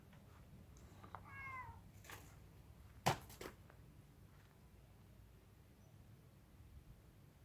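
A cat gives a few short, faint meows in a quiet outdoor setting, followed by a sharp nearby click or tap and soft background noise.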